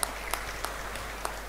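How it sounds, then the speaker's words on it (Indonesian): Audience applause at a business seminar, a soft continuous patter of many hands with a few sharper individual claps standing out, fairly distant and brief. "Tepuk tangan buat Enagic sekalian ya."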